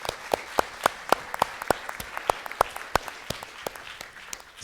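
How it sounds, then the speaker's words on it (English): Sparse audience applause for a judge at a mock trial championship round, with individual sharp claps standing out over a thin background of clapping. "Let's give him a round of applause."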